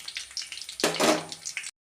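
Close crackling and sizzling of hot oil with shallots and mustard seeds frying, with a brief louder burst of spattering in the middle before it cuts off.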